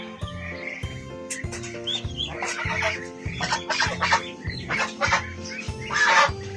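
Backyard chickens at feeding time cluck and squawk busily, close and fairly loud, over a steady low mechanical hum with rhythmic thumping in the background.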